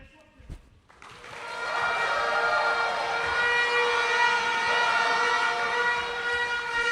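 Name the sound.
air horns blaring in arena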